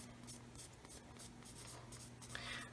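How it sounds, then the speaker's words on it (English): A 400 grit sanding stick rubs a sprue nib on a 1/144 Roden C-141B Starlifter plastic model kit, making faint, close, repeated short scratchy strokes. "I'm going to take my 400 grit stick and just run over that sprue nib until it's disappeared"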